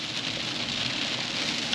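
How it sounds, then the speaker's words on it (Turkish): Steady rain falls outdoors in a continuous, even hiss that fills the whole moment, with no voices over it. "Hala daha yağmur yağmaya devam ediyor."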